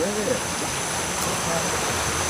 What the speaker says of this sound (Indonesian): Nah, ini anak sungai tadi.